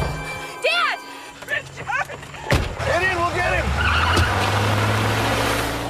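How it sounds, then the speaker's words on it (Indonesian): Cars speeding in a chase, with revving engines and squealing, skidding tires rising under a narrator's voice and growing into a steady roar of motion. "mobil itu membawa Richard yang seketika membuat mereka panik dan langsung mengejarnya"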